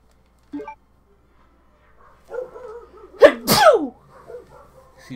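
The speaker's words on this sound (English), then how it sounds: "I gotta sneeze." One loud, sharp sneeze from a man at home, a breathy intake then an explosive burst, heard alone and close after a faint earlier noise and some low murmuring.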